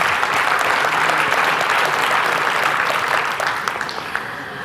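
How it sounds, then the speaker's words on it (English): A large crowd at the 2019 IHF Awards Ceremony applauds loudly and continuously, a dense wash of clapping that eases slightly toward the end. "let us all give ourselves a big round of applause"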